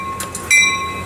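Locomotive 6903 pulls out of Fullerton station with a steady close rumble, while a sharp, bright multi-tone horn chord sounds at full strength and holds steady, after a couple of softer hissing bursts.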